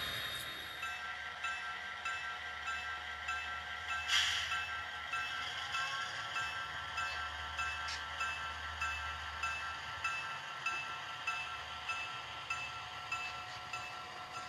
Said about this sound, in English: The Conrail Jeep 15 prepares for its return trip, pulling the empties through the partially built dumping shed.